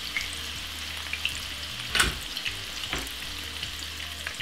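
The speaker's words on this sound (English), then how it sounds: "what we need to do is just fry up the veg" Spring onion and other vegetables fry in vegetable oil with a soft, steady sizzle. A couple of sharp utensil clinks land around the midpoint, and no one talks.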